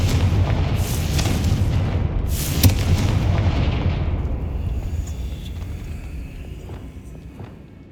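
Explosive Confringo spell blasts in the Hogwarts Legacy video game: two loud, booming bursts in quick succession, each trailing into a rumble that fades to quiet game ambience.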